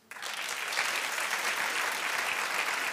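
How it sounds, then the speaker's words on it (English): Studio audience at a daytime talk show bursts into steady, sustained applause after a brief quiet start, a dense wash of clapping filling the room with no talk over it. "Clap if you think that's Sherri's son."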